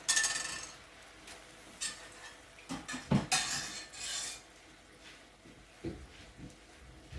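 Shrimp in butter are stirred in a pan, a metal utensil scraping and clinking against the pan in irregular bursts with a few sharp knocks, close and otherwise quiet.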